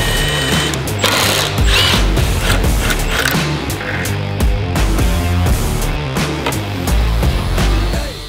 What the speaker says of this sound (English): I'm using a grinder and a wire wheel, which is absolutely shredding through the adhesive